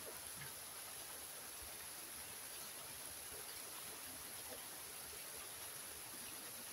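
Strong water flowing from a pipe along the Lion Rock trail, a steady, dense broadband rush that holds constant and close throughout with no talk.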